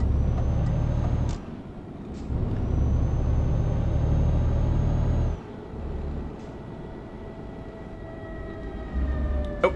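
A heavy truck engine in the video game Euro Truck Simulator 2, without a trailer, rumbles in low, surging bursts as it pulls away and shifts, with a faint whine and occasional hisses over the drone.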